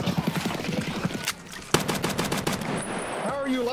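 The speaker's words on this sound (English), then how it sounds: "he's shooting me through the fucking floor" Rapid bursts of video game gunfire from an enemy shooting through a floor, a sharp loud shot followed by quick repeated rounds, mixed with voices talking.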